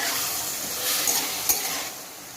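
Mint leaves being roasted in a pan with tomatoes for chutney, a soft, even hiss of cooking with a couple of brief light clinks from stirring.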